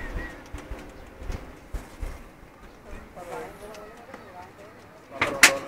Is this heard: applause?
no